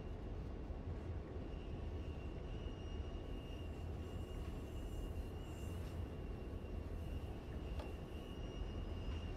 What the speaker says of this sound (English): Let's just start to get our 80 odd tons of locomotives back under control.